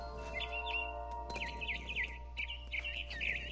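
Birds chirp in What Remains of Edith Finch, with repeated short high tweets in quick bursts over a steady low hum and a quiet ambient background.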